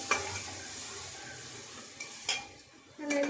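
Spices tempering in hot oil with homemade vegetables in a pan, a steady soft sizzle broken by a few sharp clinks and scrapes of a spoon stirring against the metal.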